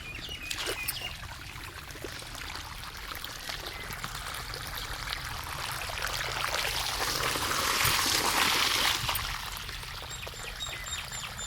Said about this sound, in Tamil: தண்ணி பாருங்கள் ஓஸ் போட்டு தான் பாய்க்க முடியுது